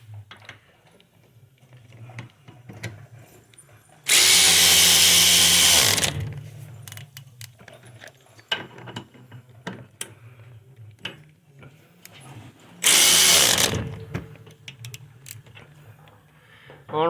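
Two loud bursts of a power tool tightening rear brake caliper bolts on a Dodge Neon, one about two seconds long and a shorter one later, with quiet workshop clatter between them.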